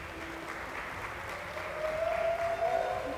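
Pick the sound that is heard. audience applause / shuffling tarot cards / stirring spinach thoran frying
audience applause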